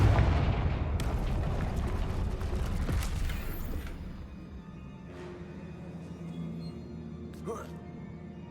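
Confringo fire-spell blasts in the Hogwarts Legacy game: a loud booming explosion with rumbling debris that gradually fades, followed by a few quieter cracks and a sharp impact near the end.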